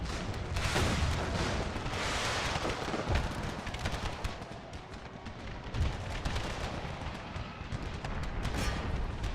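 Dense, continuous battlefield din of booming artillery cannon fire and crackling gunshots in the video game Empire: Total War with the Brothers vs. Brothers mod, loud and sustained throughout with no pauses.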